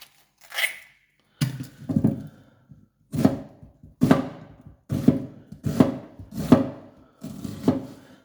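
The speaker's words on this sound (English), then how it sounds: "No fancy chopping here" A knife chops a red onion on a board in a home kitchen making lasagne, with about eight bursts of quick, close, steady chopping strokes divided by short pauses and no talking.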